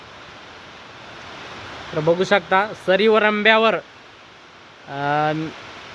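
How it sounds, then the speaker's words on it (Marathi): Very heavy monsoon rain pours over soybean fields planted on raised beds in Purna taluka, Parbhani district, a steady dense hiss throughout while someone speaks over it in short bursts. "एकदम जोरदार अति मुसळधार पाऊस तालुका पूर्णा जिल्हा परभणी या भागामध्ये अति मुसळधार पाऊस चालू आहे"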